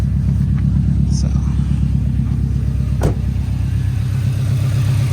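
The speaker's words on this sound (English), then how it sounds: "Now we'll just let it idle, and that's it." A 2013 Subaru WRX engine idles steadily nearby, a loud, even low rumble with a regular pulsing beat throughout, broken only by a couple of brief clicks, with someone talking over it.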